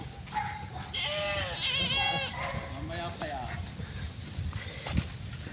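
Goats bleat repeatedly on a pasture farm in Sariaya, Quezon, with several wavering calls close by over a steady outdoor background, while people talk in between.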